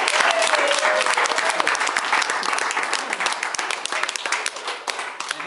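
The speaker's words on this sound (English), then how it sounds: "So if we can just give a quick round of applause for Ben" A room full of people gives a round of applause for Ben at a property presentation, dense steady clapping that holds for several seconds before thinning slightly toward the end, with no voices over it.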